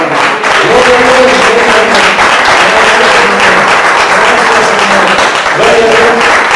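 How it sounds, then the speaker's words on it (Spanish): Loud, continuous congregation applause in a church service, thick clapping under a sustained voice and faint tonal music or singing throughout. "Démosle un aplauso al Señor"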